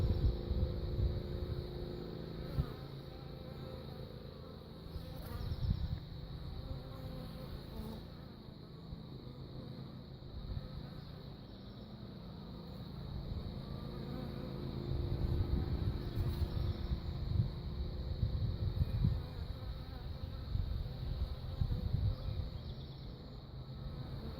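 A newly captured honeybee swarm at its hive, foragers bringing in pollen: a continuous low buzzing drone of many bees, swelling and easing slightly over time, steady throughout with no talking.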